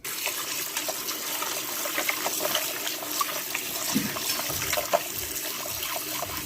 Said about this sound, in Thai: ใส่น้ำลงครับ ต้องล้างสักห้าน้ำนะครับ